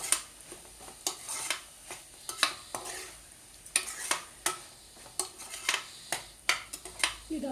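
Onions and tomatoes frying in a pan for chicken curry, a low sizzle punctuated by frequent sharp scrapes and clacks of a spoon stirring and turning them, close and fairly loud, with no talk.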